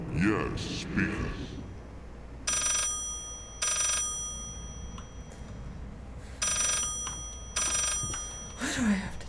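A telephone rings repeatedly in the Layers of Fear horror video game, with loud bursts of metallic bell ringing arriving in a steady rhythm over a low hum while a person talks between the rings.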